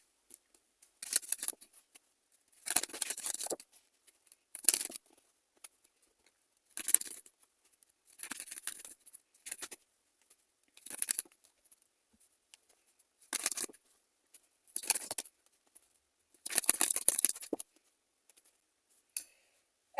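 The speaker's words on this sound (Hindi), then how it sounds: "चलिए कुछ कार्ड्स लेते हैं।" Tarot cards being shuffled and drawn, giving repeated bursts of crisp papery riffling and snapping every couple of seconds, fairly close and quiet, with no one talking.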